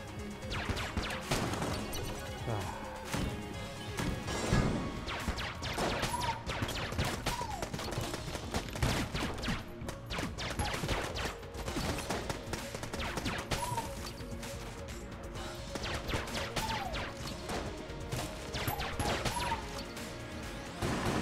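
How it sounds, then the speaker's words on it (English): Rapid gunfire from the video game Enter the Gungeon, with dense bursts of shots, crashes and impacts over game music, steady and busy, with no talk. "Stop shooting at me, game."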